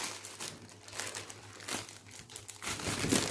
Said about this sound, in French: On va enlever le plastique qui colle, là, voilà.